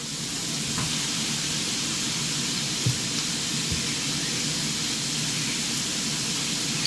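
Fresh kale dropped into a hot pan with chickpeas, garlic and artichokes sizzles with a steady, even frying hiss, moderately loud and unbroken, with no talking over it.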